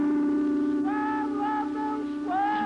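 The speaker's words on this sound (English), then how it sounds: "It's the cry of a silk vendor." A high, wavering call rises over a steady drone, repeated in several short swooping phrases, sounding like a distant street cry.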